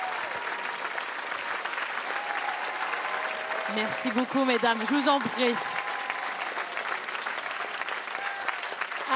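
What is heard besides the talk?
audience applause at a TV show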